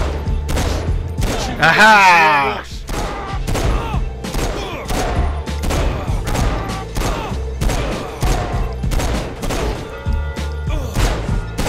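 Rapid gunfire bursts in the video game Saints Row 4, loud and dense throughout, with repeated shots and impacts layered under an excited player's shouting and laughter.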